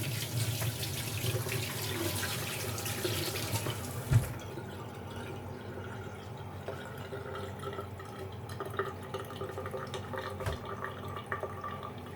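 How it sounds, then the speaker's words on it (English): Raw chicken being washed under a running kitchen tap while making a chicken burger: steady rushing faucet water that changes tone partway through, with a small thud and faint drips. No talking. "We're going to wash it in the water first."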